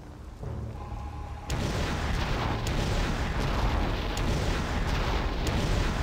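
In the video game Conker's Bad Fur Day, 20,000 lasers fire as a dense, loud, roaring barrage. It surges to full strength after a quieter opening and keeps blasting without a break, with scattered sharp cracks on top.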